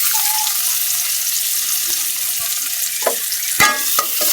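Chopped onion fries in a karahi with minced garlic, giving a loud, steady hiss of sizzling oil throughout, with a few sharp stirring clicks near the end.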